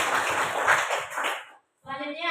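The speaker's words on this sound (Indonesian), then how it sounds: "tepuk tangan dulu untuk Kalila" A class of children claps together for a classmate, a dense patter of hands that fades out after about a second and a half; a brief silence follows, then a voice starts speaking.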